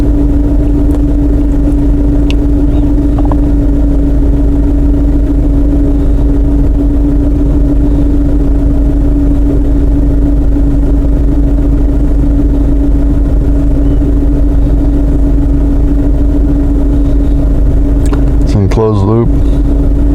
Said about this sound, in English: Oh, well, the engine's running.